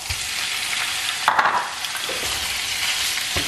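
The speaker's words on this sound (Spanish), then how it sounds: "Y las sofreímos bien." Pork ribs sizzle steadily in a hot pan, a dense continuous crackle with a brief louder burst of stirring or shifting midway, no voices.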